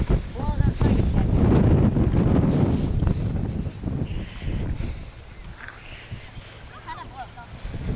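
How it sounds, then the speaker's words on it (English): Wind gusts outdoors near a playground under dark clouds, buffeting the microphone in heavy rumbling bursts that ease off midway, with a person talking over it. "Now it's windy again."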